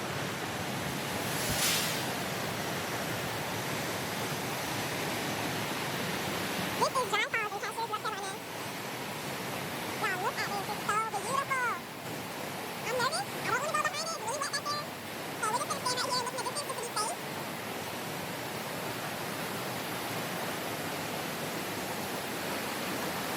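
Dry Falls waterfall in Cashiers, North Carolina, a steady broadband rush of falling water heard up close, with people talking intermittently over the constant roar.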